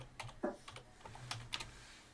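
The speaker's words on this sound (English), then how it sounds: "Oh, I'm always typing on the wrong thing." Rapid, irregular keystrokes on a computer keyboard, close by, forming a run of sharp clicks of varying loudness with no voices.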